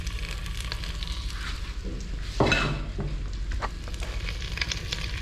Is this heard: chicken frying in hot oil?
yes